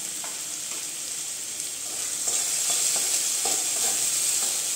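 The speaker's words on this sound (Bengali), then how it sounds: "ভালো করে আমি এখন মশলাটাকে মিশিয়ে নেব।" Cumin, coriander and chilli powder being stirred into cabbage frying in a pan, a bright steady sizzle that grows slightly louder midway, with soft scraping stirs and no talking.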